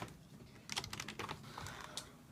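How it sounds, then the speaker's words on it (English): Computer keyboard on a sim racing desk shifted and handled, giving a quick series of light plastic clicks and taps, faint and close with no talking. "we simply move the keyboard"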